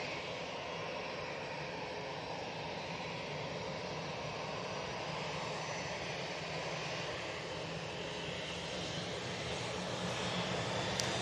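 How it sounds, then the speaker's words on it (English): An easyJet jet airliner on its takeoff roll at Manchester Airport, a distant, fairly faint broadband engine rumble that holds steady throughout and swells slightly near the end. "easyJet on the roll."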